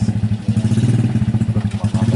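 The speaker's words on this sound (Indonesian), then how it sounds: "Tetap ya ada suara motor yang gitu" A motorcycle engine passes close by, its steady pulsing putter loud and continuous throughout the short moment.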